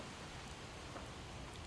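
Steady rain falls in the video game Project Zomboid, a dense, even hiss of drops with no breaks, moderately loud and heard alone.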